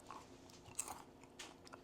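Teeth bite into a crunchy fresh tomato, just picked off the vine, giving a few soft, close crunches over a quiet background with no talk.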